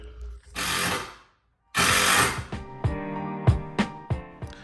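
A cordless drill drives screws through a 2x4 into a garage wall, two long whirring runs separated by a short pause, then a series of short clicks and knocks, close and loud.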